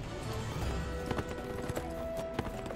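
A horse's hooves clip-clop steadily in the video game Neverwinter, a quiet rhythmic trotting pattern of hoof strikes with occasional sharper clops over a soft game background.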